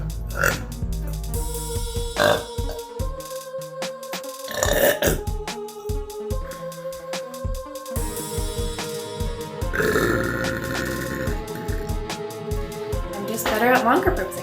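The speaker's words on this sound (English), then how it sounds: "I'm just better at longer burps, I guess." A girl lets out a long, drawn-out burp, then several more croaking burps follow across the stretch, some short and some sustained, loud and close.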